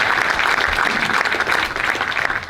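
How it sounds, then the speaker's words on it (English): Audience at a university alumni night lecture applauding, a dense steady wash of clapping from a crowd that tapers slightly toward the end. "yes, you can give a round of applause for"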